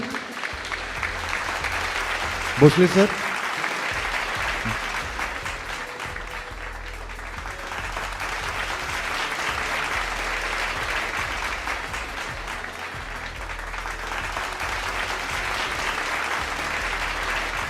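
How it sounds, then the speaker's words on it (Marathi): An audience at a church youth day event at St. Thomas Church, Sandor, gives sustained, steady applause for the whole stretch, with a brief louder burst early on and a short spoken name near the start. "परत एकदा जोरदार टाळ्या सगळ्यांसाठी"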